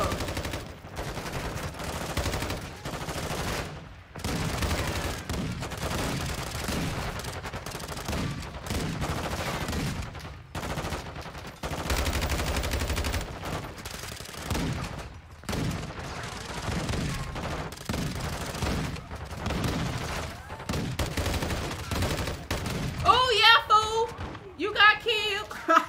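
Call of Duty Modern Warfare 2 gunfire in a multiplayer match comes as repeated bursts of automatic shots, steady and loud throughout, with a voice talking over the fighting.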